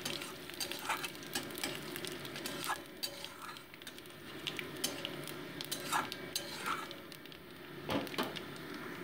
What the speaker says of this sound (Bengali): দিয়ে 5 ফোড়নটাকে ভালো মতো আমি ভেজে নিচ্ছি।